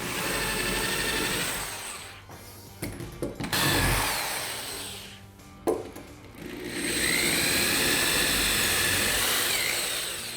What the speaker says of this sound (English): So now we want to drill deep enough that we're going through the cement board as well